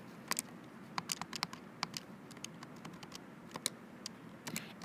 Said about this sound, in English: if we go ahead and type that in